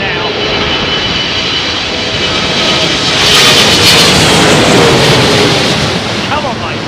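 A Boeing 777-300 with large GE engines roars loudly on approach in a strong crosswind, a steady broad jet rumble that swells midway and holds, close and continuous.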